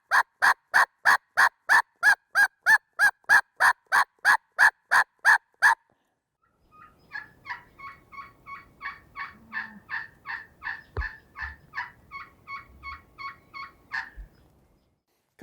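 Turkey call imitating a boss hen's assembly call: a long, steady run of loud, evenly spaced yelps, then after a short pause a second, quicker and softer series of yelps that carries on to the end.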